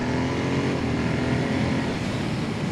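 A Ducati Monster motorcycle engine roars steadily and loudly at close range while accelerating, with no talk over it.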